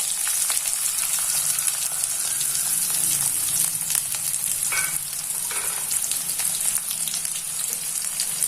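Chopped onions and curry leaves frying in hot oil in a kadai, a loud continuous sizzle with occasional stirring scrapes and no talk over it.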